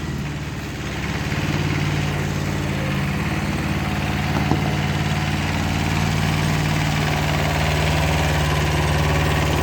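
A Kubota B5001 small tractor engine runs steadily, a loud, close, even diesel drone with constant low throbbing vibration and no speech.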